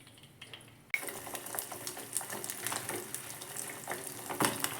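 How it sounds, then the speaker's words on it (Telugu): Beaten egg poured into a hot pan already holding boiled egg, for a fluffy omelette, bursting into a sudden sharp sizzle that then crackles and spits steadily, close and fairly quiet, with no talking. "ఇప్పుడు ఇంకొక గుడ్డుని ఇలా పోసుకోవాలండి."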